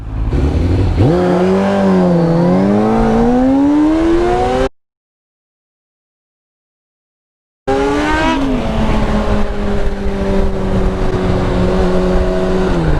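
A 1998 Yamaha R1 motorcycle accelerates hard in a short race, its loud, close engine revving up through the gears, then cuts to a few seconds of silence before revving and pulling away again.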